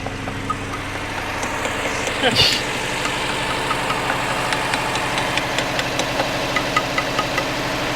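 A rough-running Dodge Charger V8 under rebuild idles with a steady knocking rumble, throttle blipped briefly near the middle before settling back to a loud, uneven idle, close up.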